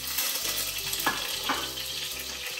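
Whole spices (cinnamon, cloves, cardamom, fennel) sizzle and crackle steadily in hot oil, close up, with the occasional scrape of stirring.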